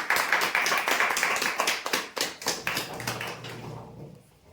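Applause for the winners of a weekly prize draw, many hands clapping together in a dense, fairly loud burst that holds steady for about four seconds, then quickly thins out and fades.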